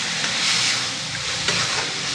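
Ground bell pepper chutney paste sautés in a pan over a low flame, giving a soft, steady sizzle and faint crackle throughout with no voices.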